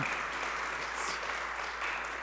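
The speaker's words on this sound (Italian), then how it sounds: "Fate l'applauso alla sede di Reggio." Applause from an audience at the Reggio Emilia site of the University of Modena and Reggio Emilia, a steady, dense clapping held at an even level throughout.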